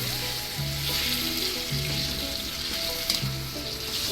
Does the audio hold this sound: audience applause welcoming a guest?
no